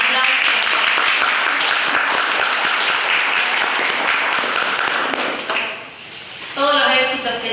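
A class giving a round of applause at the end of a law lecture: loud, dense clapping from many hands that fades toward the end, with voices talking over it at the close.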